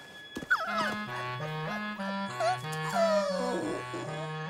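Cartoon puppies from a Strawberry Shortcake adventure whimper and whine in several rising and falling yelps, over a steady backdrop of stepping, bouncy music notes.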